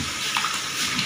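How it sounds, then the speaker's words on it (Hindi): Raw chicken being washed under a running tap in a home kitchen: a steady, close wash of flowing water for about a second, with no talking. "ये देखते हैं चिकन को अच्छी तरह वॉश कर रहे हैं"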